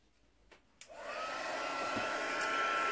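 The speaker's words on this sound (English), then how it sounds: "I can speed that up a little bit with my heat tool too." A handheld heat tool switches on after a couple of faint clicks and blows a steady, rising whir of hot air over a mixed media canvas, close and continuous with no talk.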